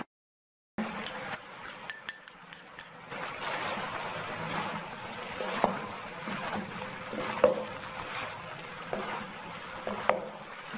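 Meat being stir-fried in a pan for a Vietnamese pork head roll, a soft steady sizzle with light clinks and scrapes of a utensil against the pan, fairly quiet and with no talk.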